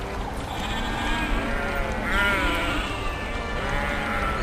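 Sheep bleat in wavering cries over a steady background rush, with one louder, longer bleat partway through and fainter calls around it.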